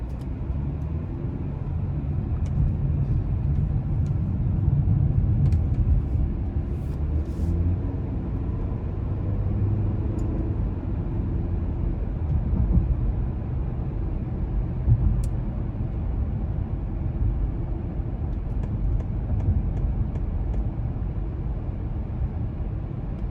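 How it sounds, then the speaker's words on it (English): A 2020 Lincoln MKZ with the 2.0 engine cruises on the road, a steady low rumble of tyres and engine heard from inside the cabin, smooth and even throughout with faint ticks and no talking. "take this 2020 MKZ out on the road for a test drive"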